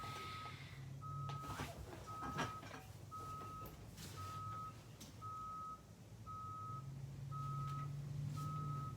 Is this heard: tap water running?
no